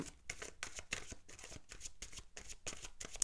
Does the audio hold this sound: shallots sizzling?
no